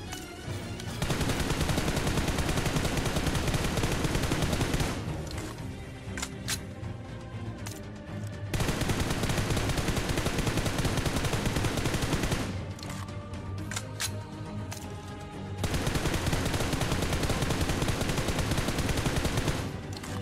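Automatic weapon spray fire in the mobile shooter BGMI, played on Android: long, loud, sustained bursts of rapid shots, three main sprays divided by short, quieter gaps, no speech.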